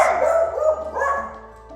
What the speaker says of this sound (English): a schnauzer and a Lhasa Apso mix, and it shows from his barks